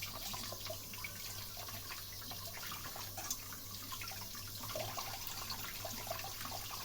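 Tap water runs steadily into a sink while mombar, stuffed intestines, are rinsed under the flow, a soft continuous splashing hiss close by with no talk.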